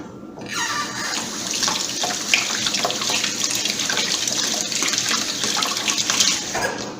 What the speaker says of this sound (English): And I got to wash my hands.